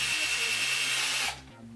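A handheld power drill whirs steadily and loudly for about a second and a quarter, driving a screw in and out, then cuts off abruptly to quieter room sound.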